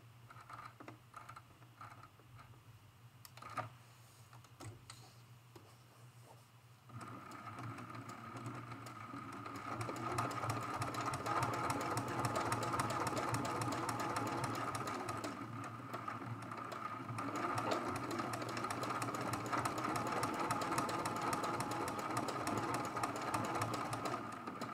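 A sewing machine quilts a hummingbird mosaic art quilt, starting with a few scattered stitches and then running steadily with a dense mechanical whir and rapid needle clatter, close and continuous.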